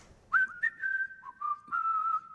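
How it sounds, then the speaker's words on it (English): Someone whistles a short, wavering tune, clear and fairly close, with several sustained notes and small slides between them. "whistling in the background"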